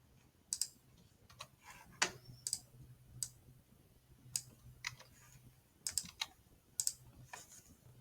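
Typing an email address and password on a computer keyboard, a quiet run of light, irregular key clicks with a few sharper taps, close and alone.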